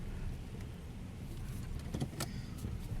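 Car interior on a rural road near the Coldiron community in Harlan, Kentucky, with a steady low engine and road rumble throughout and a couple of faint higher rattles or clicks partway through; no talking.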